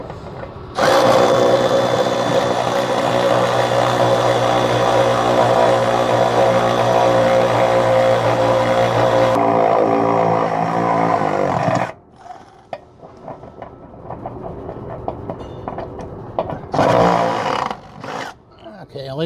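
A power tool snugs control arm bolts on a lowered 2019 Chevy Silverado, a loud continuous whirring run for about eleven seconds, then shorter bursts and clanks with a voice talking.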